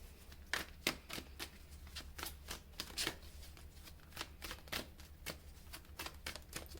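A tarot deck is shuffled and cards are drawn, making a steady run of crisp, close riffling flicks that repeat at an even pace for several seconds.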